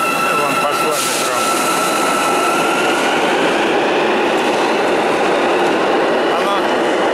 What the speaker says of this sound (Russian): Вон пошло метро.